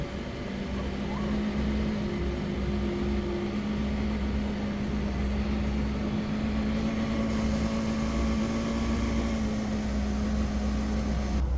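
Mercedes-Benz W202 engine idling after a high idle adjustment, a steady even hum with a constant low tone throughout, unbroken and moderately loud.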